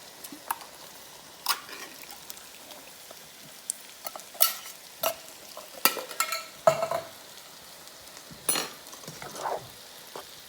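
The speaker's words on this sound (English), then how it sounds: "And we want to stir that in." Pasta sauce with garlic and olive oil is stirred in a pan, with scraping, scooping strokes and soft wet sizzling. The bursts come irregularly, close and fairly quiet, with no voices.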